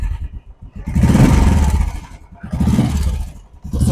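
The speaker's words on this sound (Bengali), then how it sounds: "সাউন্ডটা শুনুন ইঞ্জিনের" A ten-year-old Royal Enfield Classic 350, freshly restored, idles close by with a deep thumping single-cylinder beat, swelling twice in brief revs and then settling back.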